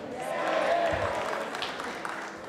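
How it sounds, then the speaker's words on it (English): Audience applause breaking out at a concert during the intermission, a steady wash of clapping from a crowd that swells early and then slowly thins, with some voices mixed in. "first time I heard an applause for an intermission"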